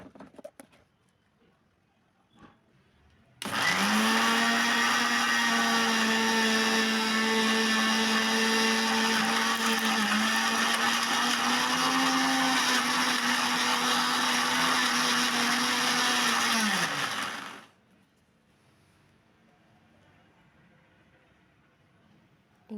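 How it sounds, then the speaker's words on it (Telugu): An electric mixer grinder blends a paste of henna leaves with a little water, starting after a quiet pause, then running loud and steady for about fourteen seconds before winding down. "ఇప్పుడు మనం మిక్సీ పట్టేసుకోవడమే"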